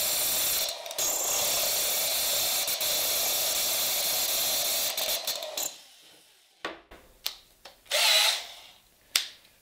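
A high-pitched 8 mm glass drill bit grinds steadily into very hard stone tile for several seconds, then stops, followed by a few sharp clicks and short bursts.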